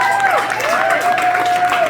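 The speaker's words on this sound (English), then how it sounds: "give Cecilia a big round of applause" An audience at the Festejo Muniz speeches gives Cecilia a round of applause, a steady wash of clapping that runs the whole moment, with voices speaking over it.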